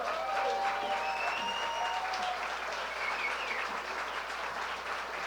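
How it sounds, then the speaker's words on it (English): A crowd applauds at the kickoff of a snow sculpting championship in Stillwater, Minnesota, with soft, steady clapping heard at a distance and faint tonal sounds and background noise mixed in. "Let's give that beauty a round of applause"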